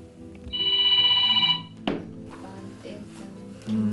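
A telephone rings for about a second with an incoming-call ringtone, then a sharp thump follows, and muffled voices and movement continue afterward.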